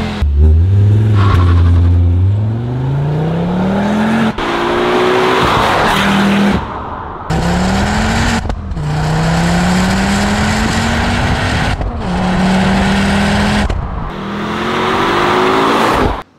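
A Ford Focus RS MK2 sports car accelerates hard and close, its loud engine note climbing repeatedly in pitch with short breaks at each gear change, and no voices over it.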